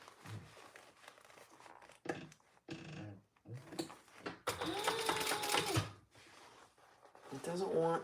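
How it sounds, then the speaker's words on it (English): A sewing machine top stitches pliable vinyl in bursts of close, steady stitching separated by pauses, with a voice talking between runs. "now we're going to turn that, and we're going to top stitch"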